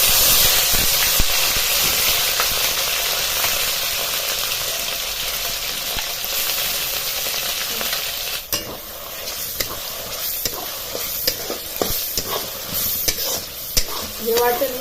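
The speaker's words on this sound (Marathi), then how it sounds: "हे वाटण सारखं हलवीत राहायचं" Spice paste frying in hot oil with crackling mustard seeds and cumin, stirred steadily, gives a loud continuous sizzle and hiss with scraping stir strokes that thin out toward the end.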